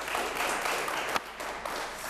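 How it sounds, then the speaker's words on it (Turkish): Studio audience applause during a televised Turkish word quiz show, a steady broadband patter of many hands clapping, fairly distant and even, with a brief louder burst near the middle and no clear speech over it. "Eller ağrıdı vallahi alkışlamaktan"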